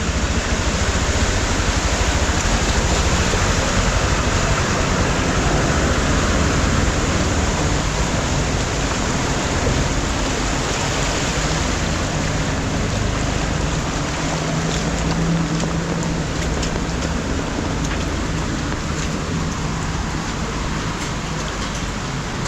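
A truck pushes through knee-deep floodwater on a flooded street in Nalasopara, churning up waves; a steady, loud rush of sloshing water fills the whole stretch without letup.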